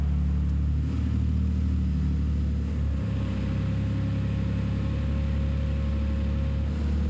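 A DeLorean DMC-12 engine idles steadily with a deep, close rumble, its revs audibly dropping as the note settles lower with a slight dip around three seconds; no one talks over it.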